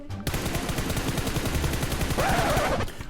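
Rapid automatic gunfire in PUBG Mobile: a close, loud stream of evenly spaced shots lasting about three seconds before stopping.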